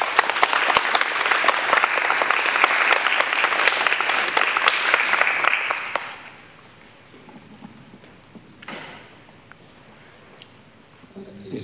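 An audience claps at a ceremony, loud dense applause for about six seconds that then stops abruptly, leaving quiet room noise and a few faint shuffles.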